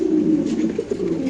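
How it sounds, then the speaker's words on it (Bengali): White king pigeons at a pigeon farm coo steadily and close by, a low rolling throaty murmur that continues without pause and with no talking. "হ্যাঁ 6000 টাকার কবুতর অলরেডি ডিসপ্লেতে চলে আসছে ইনশাআল্লাহ"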